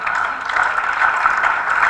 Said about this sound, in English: Let's appreciate him with a round of applause.